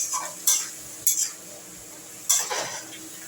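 Katla fish head masala being stir-fried in a pan with a splash of water, heard as three sharp metal spatula scrapes and clatters against the pot over a faint sizzle.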